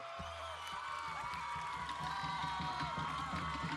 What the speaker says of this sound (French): Sous vos applaudissements, On l'applaudit, s'il vous plaît.